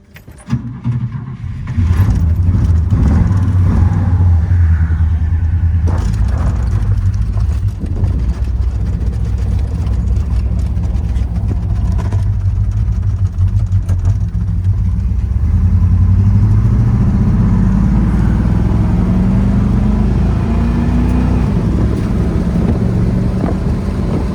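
A 1965 Buick Wildcat with the 425 dual-quad engine and an electric fuel pump idles with its idle set slightly high, a loud, close, steady low rumble that holds for the whole stretch without any talking.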